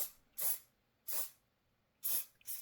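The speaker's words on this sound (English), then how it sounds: "I want to try to spray this over here" Artist's Soft Fixative sprays over paper in four short aerosol bursts of hiss, evenly spaced and close, with quiet gaps between them.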